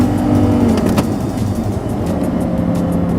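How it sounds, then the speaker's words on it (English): Audi R8 with a V10 engine and six-speed manual gearbox accelerating and revving, a loud, dense engine roar heard from close by that holds steady throughout. "Such acceleration. I mean, such precise revving."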